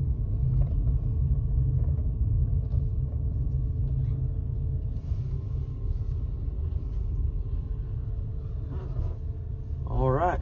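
A car with a rebuilt CVT transmission rolls slowly into a parking spot, a steady low engine and road rumble with faint squeaks near the end, a voice talking over it.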